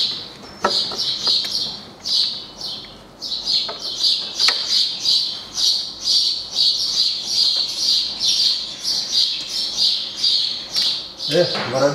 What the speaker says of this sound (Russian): Воробьи раскричались.